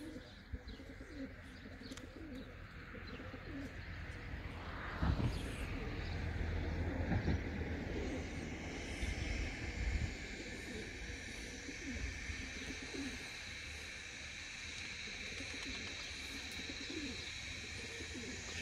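A tumbler pigeon coos softly while feeding its chick outdoors, with other bird chirps and a steady background hum, and someone talks over it in places.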